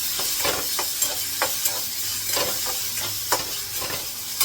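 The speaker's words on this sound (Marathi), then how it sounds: "आता फास्ट गॅस परतून घेते मी. तर कांदा थोडासा परतलाय." Onion being stir-fried in a little oil in a pan over a gas stove, with a steady close sizzle and repeated scraping stirs every half second or so, no talk.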